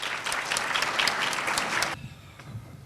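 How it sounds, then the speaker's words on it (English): An audience claps loudly and evenly to welcome a speaker to the stage at a university ethics event. The dense applause stops abruptly, leaving a quiet room with faint stray sounds. "So please, a round of applause."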